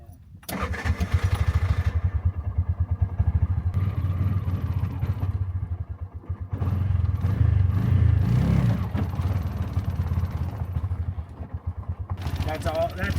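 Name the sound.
tuk-tuk rickshaw engine running in the desert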